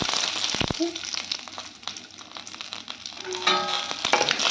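Tempering for almond chutney crackles and spits in hot oil, a loud, close, continuous sizzle with sharp popping bursts near the start and end, no voices.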